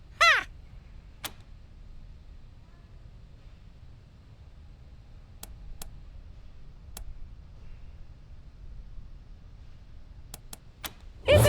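A bird in the game Wasteland 3 gives a short raspy caw at the start and another at the end, with a few sharp clicks scattered between them over quiet background hum.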